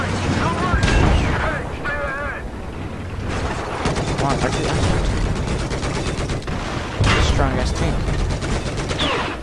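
Sustained automatic gunfire in Battlefield 4, loud close bursts of rapid shots with pauses between volleys and a brief muffled stretch, over constant battlefield ambience.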